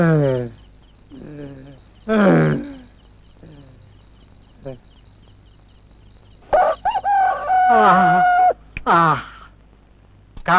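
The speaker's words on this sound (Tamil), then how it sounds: "சேவல் கூட 7 மணிக்கு தான் எழுந்துச்சு கூவுது" A rooster crows several times up close, long rising and falling calls separated by pauses, with a steady insect-like hum underneath and people talking between the crows.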